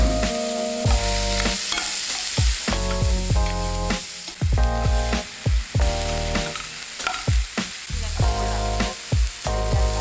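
Chopped onion fries in hot oil with a steady sizzle, broken by repeated scraping and stirring strokes of a utensil in the pan, close and fairly loud, with no talking.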